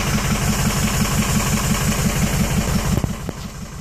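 A Ford 6.0 diesel truck engine with a cylinder 2 misfire idles nearby, a loud steady low rumble with an evenly pulsing knock, alone with no voices.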